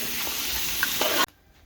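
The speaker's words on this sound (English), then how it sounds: "Stir it up properly, mix it up well, and let it cook so that the masala can go into the hassa." Hassa fish cooking with masala in a pot, stirred while it sizzles steadily and closely for over a second before the sound abruptly cuts off.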